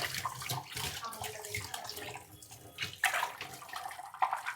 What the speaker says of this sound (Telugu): గోంగూరలు గంటలు ఇట్లాంటివి వెంబడే కడిగేసుకోవాలి, అది పట్టేస్తాయి గంటలకి